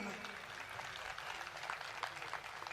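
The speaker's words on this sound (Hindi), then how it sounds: "ताली बजाइए, बड़ी अच्छी चीज होती है ताली बजाना" An audience at a stage event in Haryana applauds, a dense, steady patter of many hands clapping at a distance, with faint voices mixed in.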